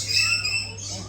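A parrot-type bird at Bali Bird Park gives a shrill, raspy squawk close by, loud at first and then trailing off within about a second.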